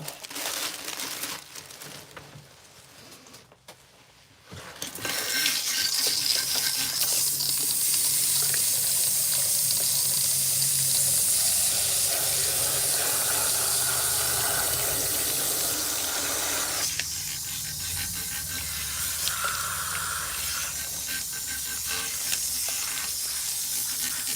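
Tap water runs steadily into a salon shampoo sink while hair is rinsed, a loud continuous splashing rush that starts after a few quieter seconds and carries on to the end with slight shifts in tone.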